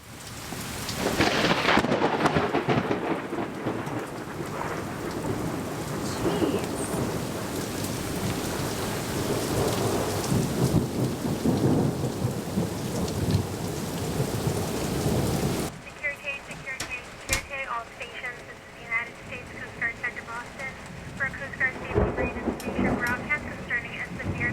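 Heavy rain pours steadily while thunder rumbles and rolls loudly, then the downpour continues more softly with scattered drips.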